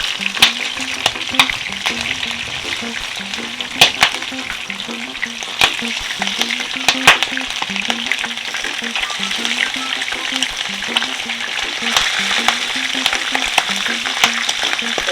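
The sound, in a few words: shrimp frying in garlic and pepper oil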